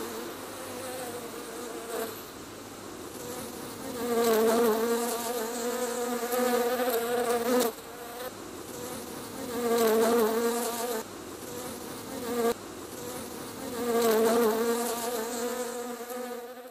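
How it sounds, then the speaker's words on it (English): Wild honeybees swarm around a hive high in a pine tree, a dense, steady buzzing close by that swells and fades in recurring waves as bees fly past, with no talk. "It's not often you find a wild honeybee hive."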